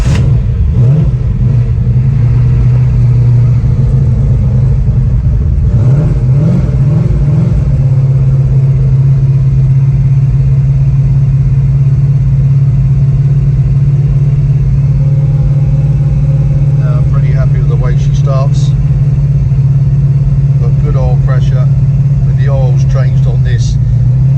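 A Ford GT40 replica, a GTD build, cranks and fires up, then settles into a loud, steady, rumbling idle close by with a few throttle blips early on; a voice talks over it later.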